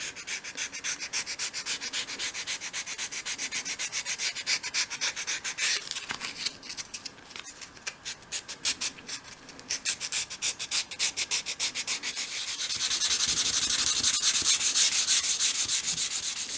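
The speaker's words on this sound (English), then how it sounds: "some of these sort of pre-cut skirtings haven't actually been finished, so you always need to give them a sand" Rhythmic back-and-forth hand sanding of unfinished pre-cut wooden dolls house skirting pieces, steady strokes close up, briefly pausing, then a faster, smoother stretch of continuous rubbing.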